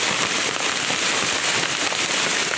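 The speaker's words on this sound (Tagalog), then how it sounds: "Ayan, lumakas na naman yung ulan." Heavy rain pours down in a mountain farming area, a loud, steady dense hiss with crackling patter on surfaces and no voices.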